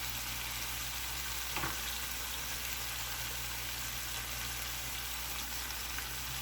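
Vegetables sizzle steadily in a frying pan, a soft continuous crackle with one brief stir sound, quiet and even throughout.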